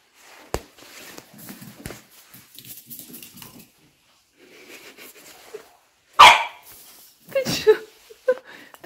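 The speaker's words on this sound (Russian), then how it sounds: "Собаки лают, отвлекают его." Dogs barking at a distance in short, scattered bursts, with a few louder, closer barks toward the end over quiet household background.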